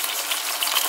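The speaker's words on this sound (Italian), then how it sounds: "Mescolo bene e lascio cuocere fino a quando i gamberi non saranno pronti." Shrimp fry in a pan with cherry tomatoes, giving a steady bright sizzle throughout, close and continuous with no voices.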